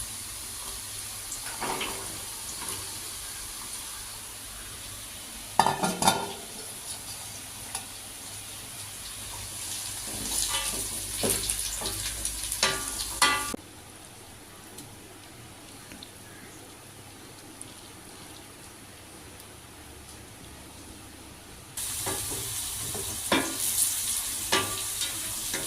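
Carrots for Jaffna-style Sri Lankan vegetable kottu noodles stir-fry in a pan, with a steady sizzle and scraping stirs, near and moderately loud, broken by a quieter stretch before the frying noise returns.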